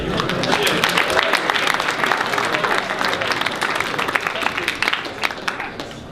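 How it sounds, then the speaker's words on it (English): Audience applause at a PAX Australia game trivia challenge: a dense, steady wash of many hands clapping that holds loud for about six seconds without letting up. "Give a round of applause."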